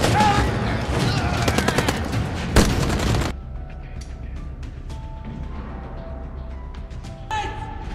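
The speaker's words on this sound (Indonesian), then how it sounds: "Suara AK berbagai jenis ini terus beradu bersahut-sahutan" AK rifles in an exchange of gunfire at an airport battle, rapid loud bursts and single cracks for about three seconds, then more distant scattered shots against a quieter background.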